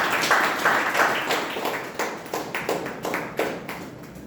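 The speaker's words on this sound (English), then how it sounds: "Can I have a huge round of applause for Jay Anand, please?" A Toastmasters club meeting audience applauds a speaker being called up, a close, steady patter of many hands clapping that thins out toward the end.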